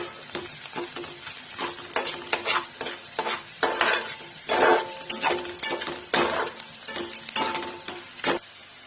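Onions fry in a pan for kande pohe, sizzling loudly and close throughout while a spoon scrapes and clinks against the pan in repeated, irregular bursts. No one speaks.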